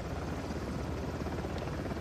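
A steady, rushing rotor drone from a helicopter flying overhead in the video game Uncharted: The Lost Legacy fills two seconds without a break and without voices.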